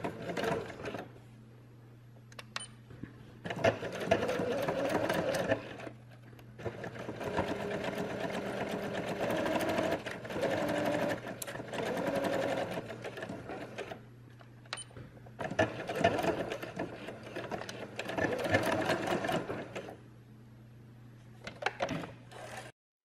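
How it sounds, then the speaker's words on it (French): A sewing machine stitches fabric 1 cm from the edge, its fast mechanical whirring running in several long bursts with short quiet pauses between them, over a steady low hum. "Piquez à 1 cm du bord."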